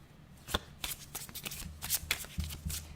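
A deck of tarot cards is shuffled close by, with repeated riffling bursts and soft card slaps across a few seconds and no talking.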